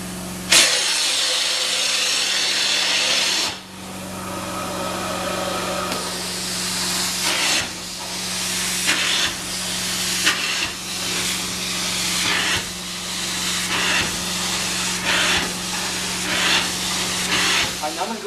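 A truck-mounted carpet cleaner's wand works stair carpet, giving a loud steady hiss and suction roar with a constant machine hum beneath, broken by repeated surges and pauses as the wand is pulled, with brief talk.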